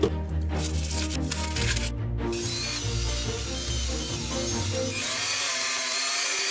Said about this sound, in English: give it a bit of grief with the scrubbing brush and Dremel